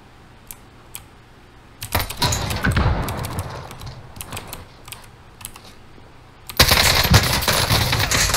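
Video game gunfire from Warzone, with rapid bursts of automatic shots that come in clusters, then a loud, dense volley near the end.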